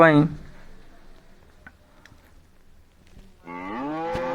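Cartoon cows out grazing in a jungle give two moos, a short one at the start and a longer, drawn-out low call near the end, separated by quiet.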